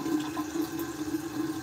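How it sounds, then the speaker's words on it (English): Hot shower water runs in a steady, even hiss and spray that is close and constant throughout, with no voices over it. "the water is so hot right now for my shower"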